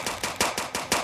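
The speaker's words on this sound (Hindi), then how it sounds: "फायरिंग कैसे आवाज़ आ रही है भाई, जैसे ढोल बज रहा हूँ" Rapid gunfire from Ninja's Creed, five heavy booming shots about a fifth of a second apart, loud and close with no talk over them.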